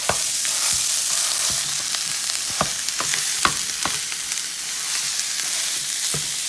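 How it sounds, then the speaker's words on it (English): Ground beef browning in a pan, a loud continuous sizzle with scattered sharp crackles and occasional stirring scrapes, close up and without speech. "we're going to brown the hamburger meat."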